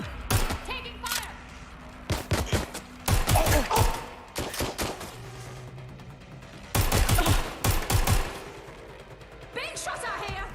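Gunfire in the video game Watch Dogs Legion: loud clustered shots and rapid bursts erupt in several waves with short lulls between, mixed with game effects and speech.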